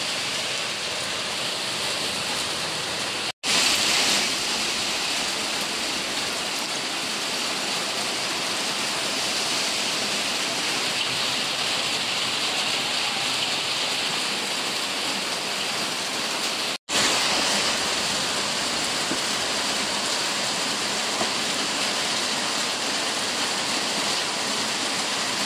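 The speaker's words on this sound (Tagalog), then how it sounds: "Ang lakas ng ulan, guys." Heavy rain roars continuously and loudly outdoors, a dense, even hiss broken only by two brief cuts, with no talk over it.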